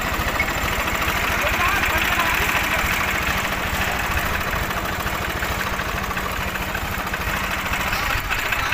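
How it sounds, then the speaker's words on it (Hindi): A tractor stuck in a sandy field, hitched to a sugarcane trolley, runs its engine with a steady, loud, rhythmic diesel throb that continues without a break. "अब ये तीन ट्रैक्टर पीछे से जोर लगाएंगे, देखते हैं पीछे खींच के खिंचता है या नहीं।"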